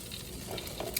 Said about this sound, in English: So I got my spinach on the pan